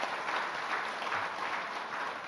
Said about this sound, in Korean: 수고하신 분들을 위해서 감사의 박수 한번 합시다.